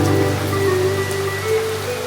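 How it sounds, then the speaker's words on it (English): Steady rain falls in Ubud, Bali, a dense, even hiss of drops on surfaces that continues without a break for the whole short stretch, with no voices. "it is raining quite a bit"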